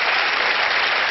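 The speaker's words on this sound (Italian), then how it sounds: "Un applauso alla nostra Bea, ragazzi" Audience applause at a comedy show, a steady, dense wash of clapping at even loudness throughout.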